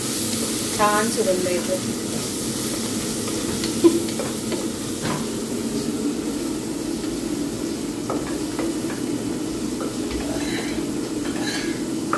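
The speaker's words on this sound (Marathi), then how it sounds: "मसाला जळायला नाही पाहिजे म्हणून छान फ्राय होऊ द्यायचं याला." Masala frying in a pan with a little hot water added, giving a steady sizzle with stirring scrapes throughout while someone talks over it.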